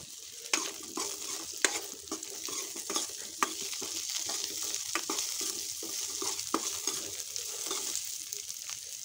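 Cauliflower and mixed vegetables frying in a pan, a soft continuous sizzle broken by frequent scraping clicks of a spoon stirring, close and moderately quiet, no voices.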